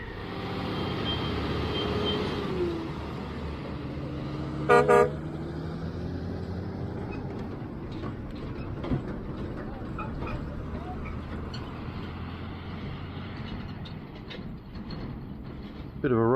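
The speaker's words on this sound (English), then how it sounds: "Bit of a road train." A road train truck rumbles past on a desert route with a steady low engine drone, a short horn blast sounding partway through and wind noise underneath.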